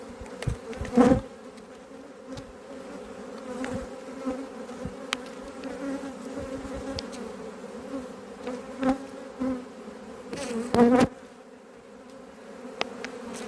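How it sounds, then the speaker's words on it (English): Steady, continuous buzzing of many bees flying close by, with a few louder swells as individual bees pass near. "I'll open the door so that all the flying bees can get out"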